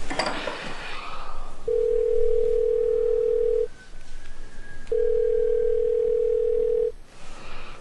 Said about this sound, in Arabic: قولي عيطي لساره